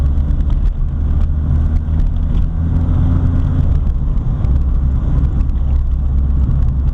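A 1979 VW Rabbit with a 1.6L diesel engine accelerating in third gear, a loud steady low engine drone heard from inside the car, continuous throughout with no talking.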